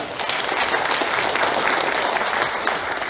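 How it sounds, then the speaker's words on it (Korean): An audience at a founding ceremony of a bereaved families' association claps, dense sustained applause holding steady throughout the short span without speech. "큰 박수 부탁드리겠습니다"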